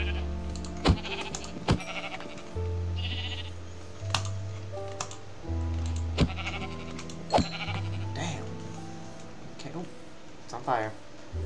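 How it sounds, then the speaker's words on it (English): Blocky sheep in the Minecraft video game bleat repeatedly at close range, mixed with other game effects and sharp clicks, while a player talks over the top. "Sheep, come here."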